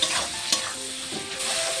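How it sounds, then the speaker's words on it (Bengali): Chopped onions with salt fry and sizzle in a pan while a utensil stirs them briefly, early in making a mutton curry. Two short scraping strokes stand out against the sizzle, and no one speaks. "নুনটিকে দিয়ে আবারও পেঁয়াজটিকে আমি একটু ভেজে নেব"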